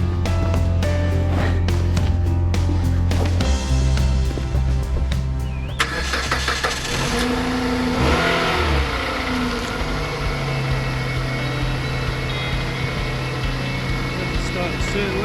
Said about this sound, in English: if we can get it started